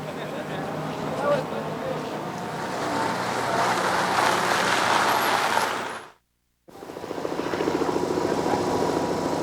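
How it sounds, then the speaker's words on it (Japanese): A helicopter carrying VIPs flies over the Silverstone circuit on race day, a loud, steady rotor roar with a rhythmic chop that cuts out briefly before returning. "サーキットへ VIP を案内するためのヘリコプターがシルバーストーン上空を飛んでいる。"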